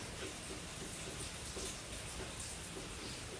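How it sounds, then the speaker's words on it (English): Soft, steady rain patters on a surface, a faint continuous hiss with scattered drops, distant and quiet. "and it rains and it thunders. Can you hear the rain?"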